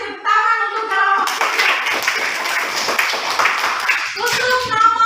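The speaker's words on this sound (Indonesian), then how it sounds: "Oke, kita kasih tepuk tangan untuk kelompok" Classroom clapping for a student group, a burst of hands clapping in the middle framed by a voice speaking before and after.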